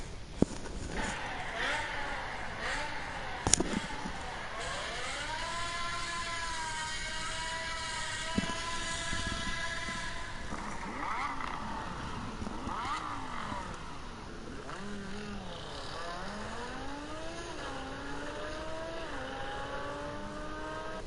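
A powerful German V10 engine from a BMW E60 M5 and an Audi R8 revs and climbs through gears, pitch rising and falling repeatedly over a steady background roar.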